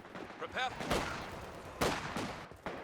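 MP40 submachine gun fire in Company of Heroes 2, crackling bursts of automatic shots mixed with other battlefield gunfire, moderately distant, with a commentator talking over it.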